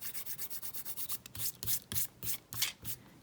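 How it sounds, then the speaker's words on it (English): Fingers rub dried masking fluid off watercolor paper in quick, close, dry scrubbing strokes, a steady rhythmic rasp that grows faster and more uneven toward the end, with no talking. "it will rub right off with your fingers"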